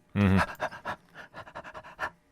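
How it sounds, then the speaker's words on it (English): A huge red ape in the Godzilla x Kong film trailer breathes heavily: a loud, deep gasp at the start, then a rhythm of rasping pants that fades toward the end. "the next scene we see this huge, large red ape who is breathing heavily"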